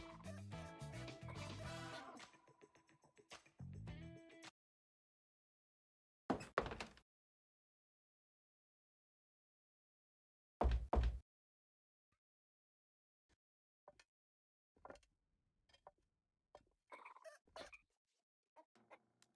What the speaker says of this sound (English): Can anybody else hear a really angry chicken